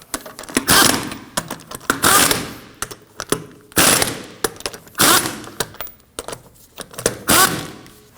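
Lug nuts are snugged down on a Subaru Baja rear wheel with a power impact tool, giving several sharp rattling bursts separated by short pauses, close and loud, with small clicks and handling noises in between.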